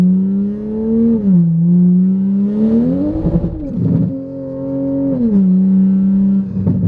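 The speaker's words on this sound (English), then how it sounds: "This is just straight up like a race only exhaust." A Toyota A90 Supra with a loud, raw race-only exhaust revs up and down in long blips, deep and droning, close by.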